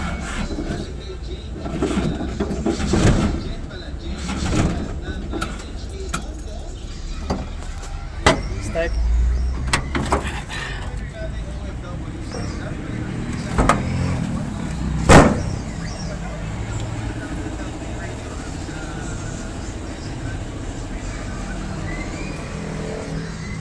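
A car with a cold engine and a low battery struggles to start, giving several uneven cranking bursts and brief revs spread out over time, close by, with people talking in between.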